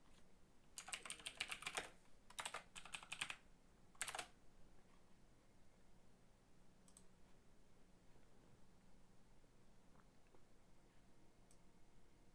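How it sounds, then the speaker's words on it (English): Several quick bursts of keystrokes on a computer keyboard as a number is entered, clustered early with short pauses between, then near silence with faint room hiss. "Let me go ahead and type that number into the PDF."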